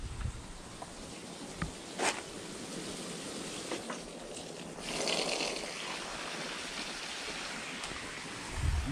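Water from a garden hose pours steadily into a backyard pool being filled, a continuous broadband rush of splashing with a few brief louder bursts and no talking.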